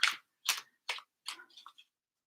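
Tarot cards shuffled in short bursts, five or six brisk crisp riffles with brief pauses between, close and fairly quiet, no talking.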